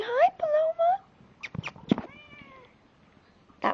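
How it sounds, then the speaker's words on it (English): A cat meows several times in quick, rising and falling calls near the start, then gives a longer, drawn-out meow in the middle, heard on a back porch with a few soft thumps and brief background noises. "That was Lana meowing."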